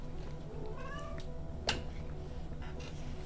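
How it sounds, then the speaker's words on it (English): A pet cat meows indoors near a desk, giving a couple of rising, slightly drawn-out calls followed by a short sharp noise, quiet and close by. "It's the cat, stop looking at me!"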